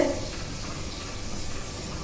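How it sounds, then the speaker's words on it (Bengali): Steady hiss and crackle of Radhaballabhi dough frying in hot oil until crisp and reddish, continuous and fairly close, with no voices. "দেখুন কত সুন্দর ভাজা হয়ে গেছে লাল লাল করে"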